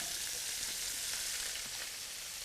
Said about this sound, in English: we're just going to now put these all in and then lightly saute till it's brown